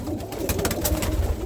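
Roller pigeons cooing close by in a loft, a steady low burbling murmur of several birds running continuously without pause.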